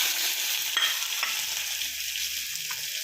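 Chopped pepper leaves being sautéed in oil, a close, even sizzling hiss with a couple of faint stirring taps.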